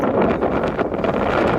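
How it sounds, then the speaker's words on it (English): Strong wind buffets the microphone in a steady, rough roar with gusty fluctuations. "It's very windy."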